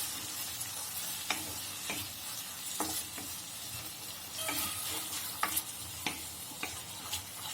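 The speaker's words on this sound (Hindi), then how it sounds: "टमाटो सॉस और रेड चिली सॉस और इन चारों को अच्छे से हम एक बार मिक्स करेंगे।" Soy, tomato and red chilli sauces are stirred together in a hot pan for street-style veg chowmein, with a soft sizzle and repeated sharp spatula scrapes and taps at an uneven pace, no talking.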